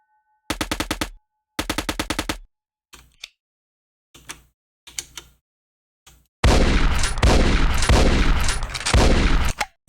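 Shotgun and rapid gunfire in a prototype video game shooter: two quick bursts of automatic fire, a few sparse single shots with pauses, then a sustained loud barrage of rapid shots to the end.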